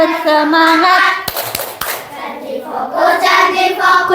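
Children in a classroom doing the tepuk janji promise clap, a few sharp rhythmic hand claps set between chanted voices led by a teacher.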